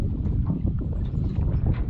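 Wind buffets the microphone in a continuous low rumble with gusty fluctuations and no speech.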